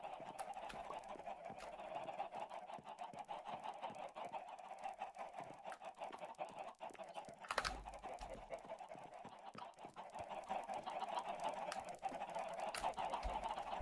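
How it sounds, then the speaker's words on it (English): Chickens in a Minecraft chicken farm cluck and squawk in a busy, overlapping chorus, fairly faint and steady throughout, with a few sharper calls standing out. "Chicken farm."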